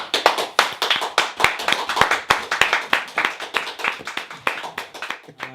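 A few people in a studio room clap together, giving a loud, close series of crisp claps at an even, unhurried pace that runs the full length before stopping.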